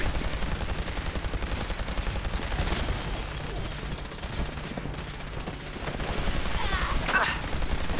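Rapid, sustained automatic fire from a combat rifle in the PC game Fallout 4, loud and dense throughout with a brief lull in the middle, while a voice speaks over the shooting.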